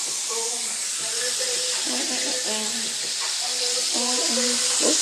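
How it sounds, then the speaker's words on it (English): Chicken frying in a pan gives a steady bright sizzle and hiss throughout, with someone talking over it close by. "Over here frying some chicken."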